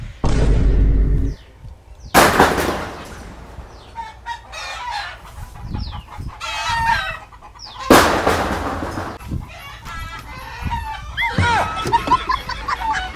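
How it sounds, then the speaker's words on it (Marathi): Chickens and a rooster cluck, squawk and crow in a busy flurry near the microphone, with loud bursts of flapping and scurrying as the birds run about, while people talk in between. "ए अगं कोंबड्या वडला पळ पळ पळ पळ"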